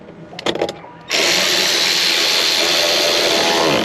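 A power drill runs in one continuous loud whir, tightening screws into the plastic door panel of a 2019 Ford F150, preceded by a few short clicks and taps.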